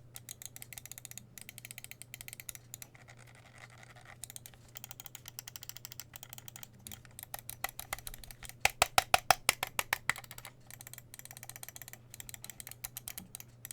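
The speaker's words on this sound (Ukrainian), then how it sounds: "Перемикачі оптичні омрон на 100 мільйонів натискань, неперевершений клік з відсутнім сайт тревелом." Sharp crisp clicks of Omron optical mouse switches repeat, some spaced out and others in quick bursts, close up over a low steady hum.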